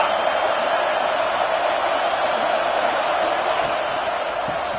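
Stadium crowd in the College Football 26 video game roars in a steady, loud, dense wash of cheering and noise that holds throughout without a break.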